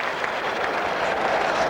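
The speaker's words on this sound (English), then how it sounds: "I can hear a ripple of applause there." A ripple of applause from the cricket crowd at Eden Gardens, Calcutta, during a Pakistan–India match, heard as steady dense clapping that fills the stadium without any single standout burst.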